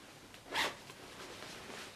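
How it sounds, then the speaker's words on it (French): A single brief zip of a black invisible zipper on a sewn garment, close and quiet, a quick rasping pull in an otherwise hushed room. "Et derrière il y a une fermeture éclair invisible noire."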